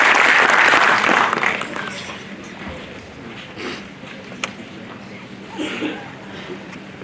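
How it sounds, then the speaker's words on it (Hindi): Loud applause welcomes Bihar's police director general to an event. The clapping is strongest in the first two seconds, then thins to scattered claps and faint murmurs. "जोरदार तालियों से हम सब स्वागत करें।"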